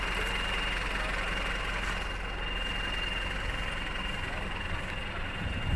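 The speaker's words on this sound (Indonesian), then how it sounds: "Fleksibel sama knalpotnya, suaranya bisa disimak" A newer Euro 4 Mitsubishi Canter truck with a flexible exhaust idles steadily at close range. The low diesel rumble holds constant throughout with no voices.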